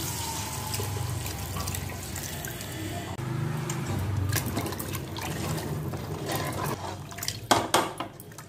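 Tamarind water pours and splashes into a pot of eggplant, drumstick and fish curry close by, with some sloshing and a few metallic clinks toward the end.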